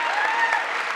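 Audience applause fills the room at a school board meeting, a steady dense clapping from a crowd heard close and fairly loud, with no voices over it.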